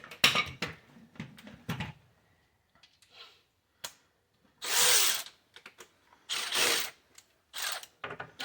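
A cordless power tool works on car suspension bolts on a 1991 Honda Civic, giving several short bursts of whirring and ratcheting with brief clanks and pauses between them, fairly close and with no talk.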